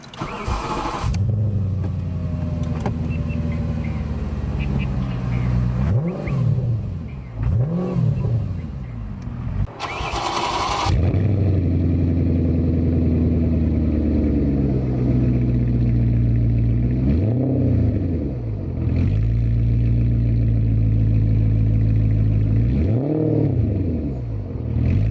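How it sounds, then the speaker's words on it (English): An Audi RS4 wagon engine cranks and fires up, then settles into a deep idle broken by several sharp revs that climb and fall back, loud and close with no talking. "let's start up the RS4 wagon. So, oh, I love the sound of that engine"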